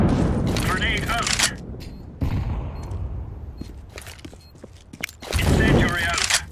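Grenade blasts and gunfire in a tactical shooter match after a bomb plant, with bursts of loud booming crackle at the start and again near the end, a quieter rumbling stretch between, and voices calling out over the noise.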